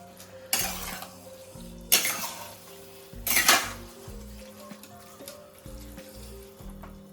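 A thickening red spaghetti sauce stirred in a pan, with three loud scraping swipes of a utensil against the metal over a soft bubbling hiss and quieter clinks in between.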